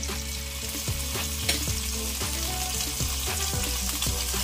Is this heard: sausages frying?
yes